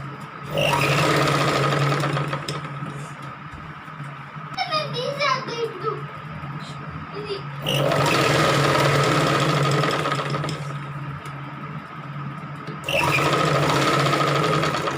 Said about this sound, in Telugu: ఇప్పుడు ఇక్కడ తర్వాత ఇక్కడ కుట్టు అనేది వేసి చూపిస్తాను నేను.